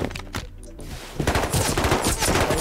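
Rapid gunfire in the survival video game Rust, several overlapping bursts of automatic shots following a brief lull, loud and close with dense repeated cracks.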